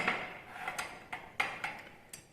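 A utensil clinks rhythmically against a bowl, with about six light taps spaced roughly a third of a second apart, as talcum powder is mixed into sludge activator. Close and soft, with no talk.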